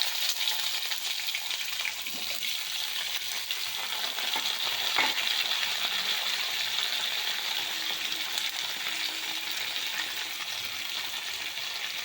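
Vegetables frying in a tempering of dry chilli and panch phoron for a Bengali chorchori, a steady close sizzle with occasional stirring clinks and no voices.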